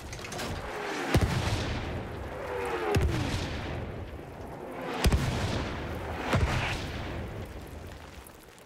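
Enemy artillery barrage in Battlefield 1: heavy booming blasts land every second or two over a continuous rumble of distant fire, with whistling shells overhead, loud and close.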